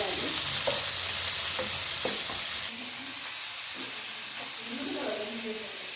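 Green chillies fry in a pan with a steady hiss, a few soft spoon stirs tapping in, while a voice talks over it.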